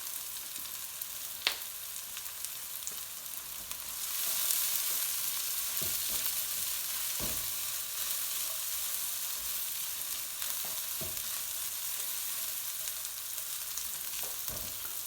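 Onions sizzle in hot oil in a pan for garlic chilli fried rice, a steady, fairly soft frying hiss with occasional light clicks of a utensil, and no one speaking.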